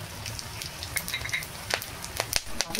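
Whole cardamom, cumin seeds and cloves sizzle and crackle in hot oil for basanti pulao, a steady fry hiss broken by sharp pops and spits that grow more frequent toward the end.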